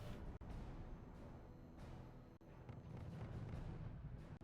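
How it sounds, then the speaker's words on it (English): Artillery barrage in the RUSE strategy video game: dense, rumbling booms and crackling impacts roll continuously at low level, with a few sharp dropouts between blasts. "He strafes the artillery piece, but at least it gets one barrage off."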